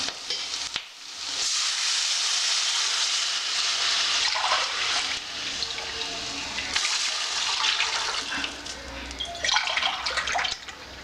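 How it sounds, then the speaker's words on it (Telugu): Water poured steadily into a cooking pot for sanna rava upma, a continuous splashing rush lasting several seconds with small changes in flow and no talk. "3 గ్లాసుల రవ్వకు ఈ పెద్ద గ్లాస్తో పావుసేరు గ్లాస్తో 3 గ్లాసుల నీళ్లు పోద్దాం"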